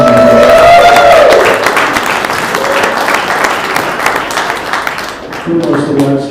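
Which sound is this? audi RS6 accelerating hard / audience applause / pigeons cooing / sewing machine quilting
audience applause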